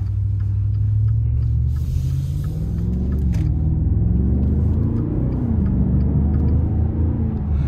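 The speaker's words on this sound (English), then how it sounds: "listen to those downshifts" A 2023 Maserati Ghibli Trofeo sedan's V8 engine drones steadily and close throughout while driving, its pitch rising and falling through downshifts over a continuous low rumble.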